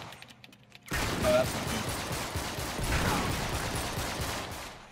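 Gunfire erupts suddenly in Uncharted 3 after a quiet moment, a sustained, moderately loud volley of shots and impacts, with someone speaking briefly over it.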